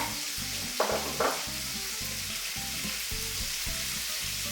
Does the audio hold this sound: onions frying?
yes